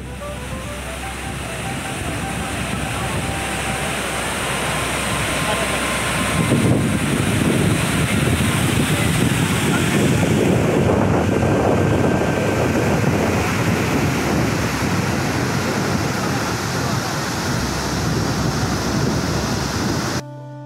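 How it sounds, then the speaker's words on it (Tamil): The Hogenakkal waterfall, running with a heavy flow, gives off a loud, continuous roar of rushing water that swells midway and then holds steady, with wind buffeting the microphone. "தண்ணியோட ஃப்ளோ அதிகமாக இருந்ததுனால ஃபால்ஸ்லேருந்து வர தண்ணி ரொம்ப பயங்கர சவுண்டோடு பார்க்கவே டிஃப்ரெண்ட்டாக இருந்தது."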